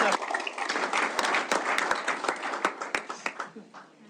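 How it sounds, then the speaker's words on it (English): Applause at a city council meeting honoring a ship crew, a room full of people clapping steadily before it thins into scattered, slower claps near the end. "how about a round of applause for this crew?"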